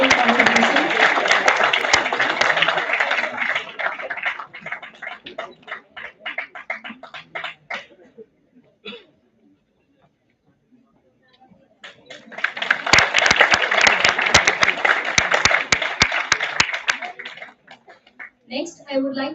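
Audience applause at a seminar comes in two loud bursts of dense clapping, separated by a quiet gap with a few scattered claps, with a brief voice near the end.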